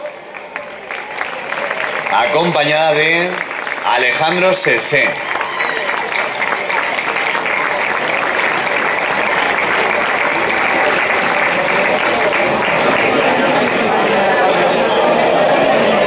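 A crowd at the 2017 Fonz town festival breaks into loud, sustained applause to welcome Pilar Artal Navarro, while an announcer speaks over the opening moments.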